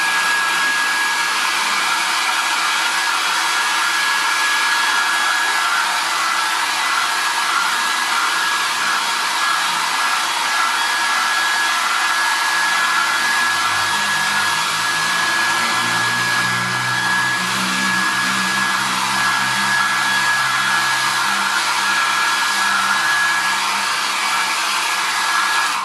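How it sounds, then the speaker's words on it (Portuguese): Hair dryer blowing on the edge of an MDF box before painting, a loud steady whooshing drone with a high whine that holds for the whole stretch, its tone shifting slightly partway through. "Vou secar para poder fazer a pintura da bordinha."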